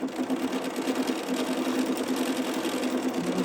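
A sewing machine stitching a quilt piece, a fast, steady mechanical hum and rattle running close and loud without pause, with no talking.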